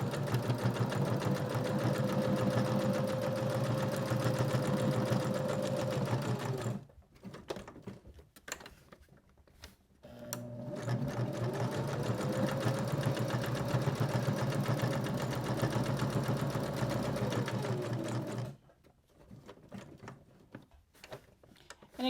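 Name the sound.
sewing machine stitching through batting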